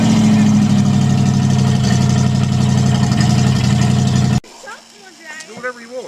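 A Buick Riviera fitted with a small-block Chevy engine runs at a steady, loud idle for about four seconds, then cuts off abruptly, leaving quieter voices talking.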